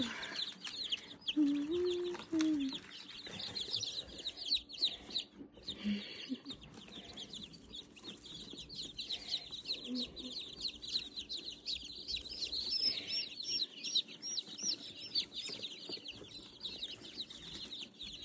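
Newly hatched baby chicks fresh from an incubator chirp and peep in a busy, overlapping chorus, with some wing flutters and scuffling, moderately close.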